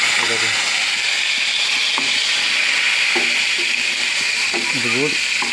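Eggplant slices shallow-frying in a pan, a steady close sizzle running throughout with a few soft clinks and scrapes as the rounds are turned, no talk over it.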